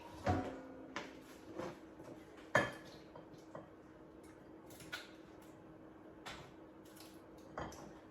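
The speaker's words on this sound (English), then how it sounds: "We're going to transfer it to the oven-proof dish." Cooked bean and vegetable mix for a cheesy bean veg bake being scooped into an oven-proof dish: scattered clinks and scrapes of utensil on cookware, a few sharper knocks among quieter clatter, no talking.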